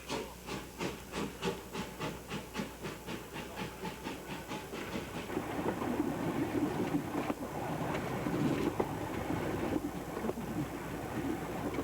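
An old steam train pulls out of the station at Kühlungsborn with loud, regular chuffs close by, then settles into a steady hissing rumble as it gets moving.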